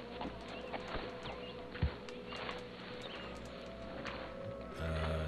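Horse hooves in the Red Dead Redemption 2 video game give a faint, steady clip-clop beneath quiet in-game ambience for about five seconds.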